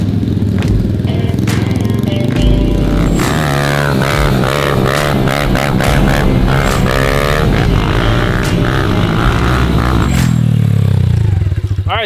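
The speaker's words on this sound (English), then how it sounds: "I think we're going to ride some pit bikes on the new land." Pit bike engines buzz and rev steadily while riding a wooded single-track trail, a close, loud, continuous drone with rising and falling pitch and some clattering over rough ground.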